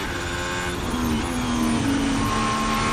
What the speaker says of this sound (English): Sound you can hear is Valtteri Bottas coming across the line in the Alfa Romeo